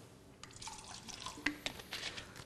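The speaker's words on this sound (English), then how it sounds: "I'm pouring some fresh samples here. And some Dasani." Fresh bottled water samples, including Dasani, are poured, giving a soft splashing trickle with a few sharper drips and clinks, close and fairly quiet.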